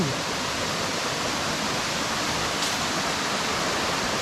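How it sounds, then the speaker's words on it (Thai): Water pouring down from above at a waterfall near Bang Wad Dam, Kathu, Phuket, heard up close as a loud, constant hiss and rush of falling water with no talking. "นี่น้ำไหลมาจากข้างบนอย่างนี้เลย"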